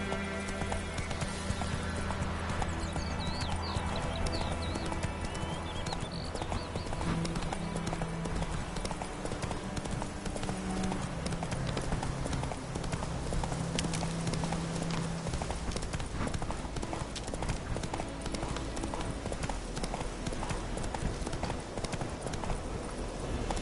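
Horse hooves clop steadily at a gallop in The Witcher 3 while the horse carries its rider through the game world. The rhythmic hoofbeats stay continuous and prominent, with game ambience and music underneath.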